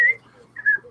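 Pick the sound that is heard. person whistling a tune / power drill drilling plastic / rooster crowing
person whistling a tune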